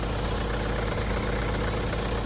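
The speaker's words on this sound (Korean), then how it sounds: "디젤 차량의 엔진룸 앞에 나와 있는데요" A diesel car engine idles in front of an open engine bay, a continuous close, even rumble with a steady low throb and no speech.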